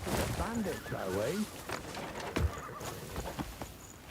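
A horse gallops in Crimson Desert, with hoofbeats, a neigh and a whinny set against game sound while someone talks over them throughout.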